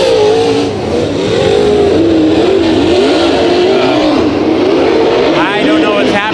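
Race cars in a heat race at Bakersfield Speedway, a dirt oval, engines droning and revving loudly throughout with wavering pitch as they circle, a commentator talking over them.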